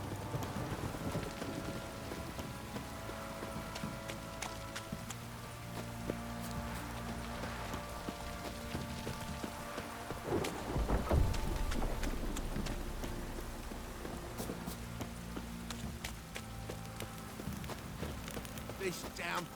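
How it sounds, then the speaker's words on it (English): Heavy rain in the video game The Witcher 3 hisses steadily throughout under sustained tonal game sounds, with one brief low thunder-like rumble near the middle. "This downpour's a bastard, it is."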